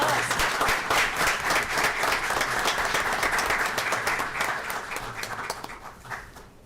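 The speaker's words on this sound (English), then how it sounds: "let's give them a round of applause" A school board meeting audience gives a full round of applause, dense, even clapping that holds steady for several seconds and then fades toward the end.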